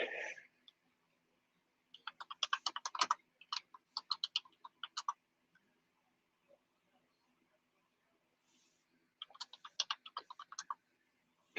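Rapid clicky keystrokes on a computer keyboard come in bursts of fast typing with pauses of near silence in between, close and fairly quiet.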